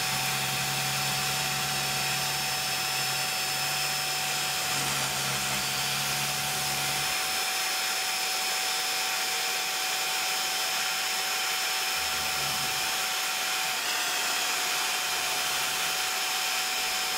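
A CNC mill runs a single flute cutter at about 5000 RPM, feeding at roughly 500 mm per minute in a failed test run. It makes a loud, continuous whine, and a low rumble drops out partway through.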